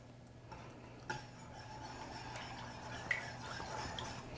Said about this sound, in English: Now you wanna mix it.